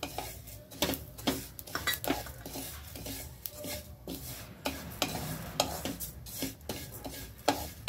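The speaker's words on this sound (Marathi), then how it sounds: "हे पण असं खमंग भाजून घ्यायचं" Shahi jeera and fennel seeds dry-roasting in a pan for homemade Maharashtrian masala, with a steady dry rustle broken by repeated scraping and clinking strokes of a spoon against the metal, close and fairly loud with no talk.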